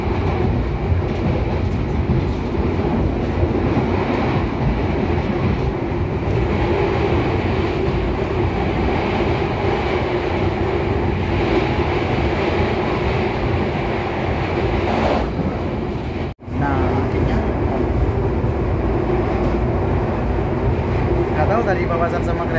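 A train rumbles steadily along the rails near Kutoarjo station toward Yogyakarta with a loud, rattling clatter throughout, continuous and close, broken briefly by one sharp dropout.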